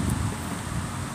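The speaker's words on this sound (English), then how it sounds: "It's windy out and I apologize." A brief, steady rush of wind blowing outdoors, buffeting the microphone with a low rumble.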